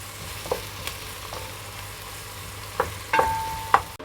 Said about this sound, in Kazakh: Осы қызған майымызға енді пиязымызды саламыз. Осыны қызартып, әбден қуырып аламыз.